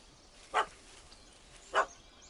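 Two short puppy barks from the video game The Witcher, spaced about a second apart, moderately loud over a faint low background hum.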